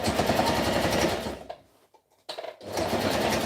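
A sewing machine runs in quick, loud bursts while stitching a v-neck shirt, rattling for over a second, pausing briefly, then starting again.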